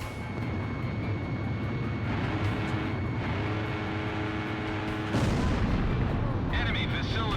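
In the game Ace Combat Zero, a dense roar of anti-aircraft and gunfire fills the scene under a steady jet engine drone, rising to a louder rumble near the end.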